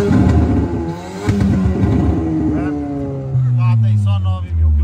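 A reprogrammed car engine revs in neutral, rising and falling in loud, close pitch sweeps, with a voice talking over the roar.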